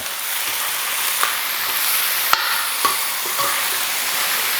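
Pork spare ribs sauté in a pan until the outsides brown, giving a steady broadband sizzle with a few faint clicks and light scrapes, moderately loud and close, with no talking.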